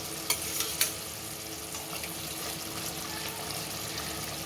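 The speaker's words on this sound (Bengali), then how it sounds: "মশলাটা খুব ভালোভাবে কষানো হয়ে গেছে, এবার এতে পটলগুলো সব দিয়ে দেব" Pointed gourds (potol) tumbled into a pan of well-fried spice paste, giving a couple of sharp drops near the start, then a steady close sizzle with faint stirring scrapes and no talk.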